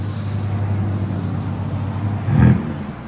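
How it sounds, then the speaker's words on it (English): A 2025 BMW M3 Competition with a Dinan X-pipe and resonator delete, exhaust valve open, holds a deep steady idle drone, then swells into a brief rev before settling again. "That opened the valve now. Much better. That's what an M3 should sound like."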